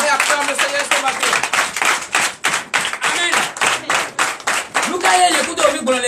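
A church congregation claps rhythmically during a Sunday worship service in Benin, dense steady clapping filling the room with voices mixed in.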